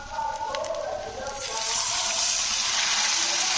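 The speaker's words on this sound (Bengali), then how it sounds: "তো সামান্য একটু আমি জল দিলাম" Water pours from a vessel into a pan of Roopchand fish curry being cooked, giving a steady, close splashing gush that builds and holds to the end.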